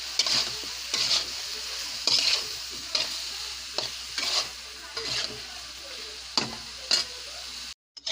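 Tomatoes frying with spices in a pan, stirred in regular strokes every second or so, each scrape over a steady close sizzle, no talking.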